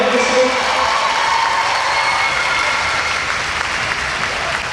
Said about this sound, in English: Give him one more nice round of applause.